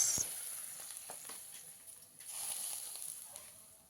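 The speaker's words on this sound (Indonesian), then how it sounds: "ini dia siraman minyak panas" Hot oil poured over chili sambal, a faint close hiss and crackle that fades and swells again briefly, with no voices.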